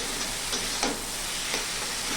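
Taro greens mixed with pre-fried chopped coconut in a pan give a continuous soft sizzle with a few light stirring scrapes, close and steady, with no talk.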